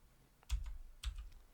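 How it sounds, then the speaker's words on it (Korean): Two separate clicks of the O key on a computer keyboard, close and quiet, about half a second apart with a faint rattle after each press. "오스냅을 켜서 키보드의 O 버튼 눌러서"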